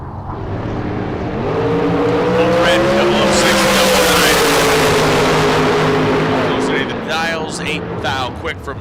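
A dragster roars down the strip in a long, loud run that rises and holds, with a race announcer talking over it.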